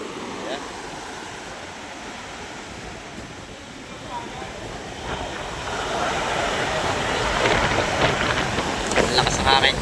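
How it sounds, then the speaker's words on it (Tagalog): Strong wind roars steadily with crashing surf and spray underneath at a seaside fish terminal in Tanza, Cavite, building louder toward the end; no talking. "Ang lakas ng hangin."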